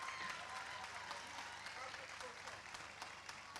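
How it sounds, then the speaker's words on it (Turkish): A festival crowd gives broad, steady applause at a cultural and arts event, heard as a faint, dense wash of clapping that holds evenly throughout. "sizler için büyük bir alkış istiyorum"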